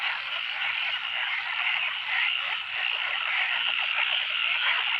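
Frogs croak in a thick, unbroken chorus on a rainy night at spawning time, loud and steady throughout, with no talking.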